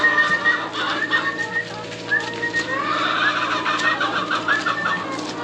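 Chickens cluck steadily in a dense, overlapping chorus, with a few sharper calls rising above the flock's continuous murmur.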